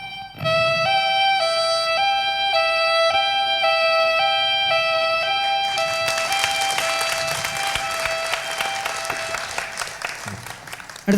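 Violin and flute mimic an ambulance siren as a steady two-tone alternation of high and low notes, loud and sustained, with crowd applause rising under the second half.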